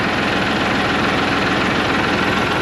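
A tractor engine with a front end loader idles steadily and loudly up close, a continuous low throbbing rumble with no break, just before the tractor pulls away.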